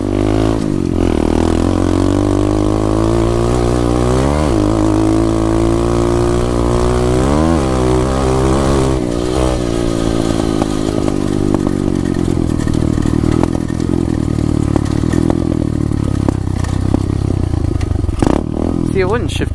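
An SSR 125 dirt bike on a cold day revs hard and loud up close while riding, its pitch rising and dropping with each gear change, and the rider talks over the engine.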